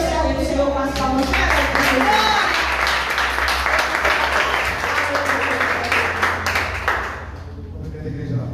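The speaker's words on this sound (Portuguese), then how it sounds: "Vamos receber o servo do Senhor com as palmas." A church congregation claps and applauds loudly for several seconds, a dense, roomy wash of hand claps that fades slightly toward the end.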